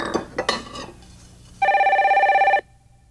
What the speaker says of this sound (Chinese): 你的电话紧来接啦。